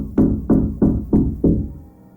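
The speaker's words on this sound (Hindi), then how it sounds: "दस्तक हुई।" Five evenly spaced, hollow knocks on a door at night, close and firm, each thud ringing briefly before the next, then silence.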